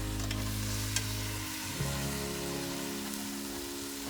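Big bone-in Berkshire pork chops sizzle steadily over an open hearth fire, a dense, even crackle and hiss with a few brief pops and no voices.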